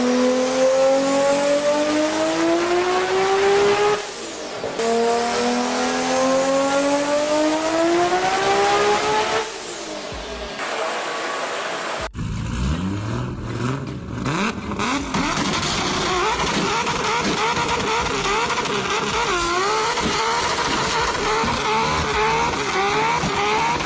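Toyota Supra Mark 4 with an overbuilt, boosted engine, heard loud and close as it revs, its pitch climbing in rising sweeps over the first half, then a busier, rougher stretch of engine and tire noise that runs on steadily to the end.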